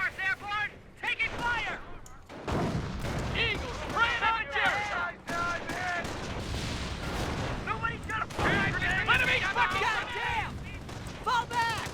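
Machine guns and artillery fire crack and boom through a World War II battle in the strategy game Company of Heroes, defending Carentan, with dense bursts running under constant talk and radio-style voices throughout.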